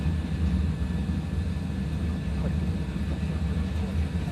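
An airliner in a flight simulator rolls down the runway for takeoff, giving a steady, loud low engine roar that holds evenly throughout with no talk over it.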